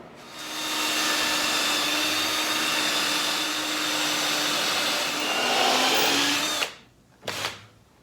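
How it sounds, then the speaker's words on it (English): A power drill bores into hard pallet wood while building a claustra, a steady loud whine running for several seconds before cutting off, followed by one brief final burst. "Definitely drilling into some hard material there."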